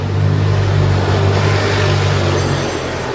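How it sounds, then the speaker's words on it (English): A bus drives past on a street, its low engine rumble swelling loud and close, then holding as a steady heavy drone for a few seconds. "Just wait for the bus to go by."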